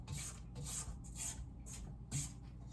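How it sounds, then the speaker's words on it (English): A spatula scrapes the sides of a mixing bowl holding cookie dough with pudding mix powder, making a series of soft, close rasping strokes in a steady rhythm, with no talking. "I'm going to scrape down because some of that pudding mix powder got on the side of the bowl"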